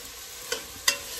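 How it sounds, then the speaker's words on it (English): Jackfruit sizzling in a pan with onions and garlic, a faint steady frying hiss under two quick stirring scrapes. "So we're just going to cook it here with the onions and garlic for a little bit."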